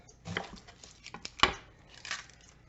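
Knife slicing and cutting vegetables for pork chile verde on a board, a few sharp uneven chops and cuts with one crisp louder slice, close and alone.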